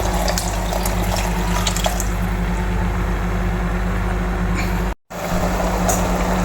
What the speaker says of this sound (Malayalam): കുറച്ച് പച്ചവെള്ളം ഒഴിച്ച് കൊടുക്കുന്നുണ്ട്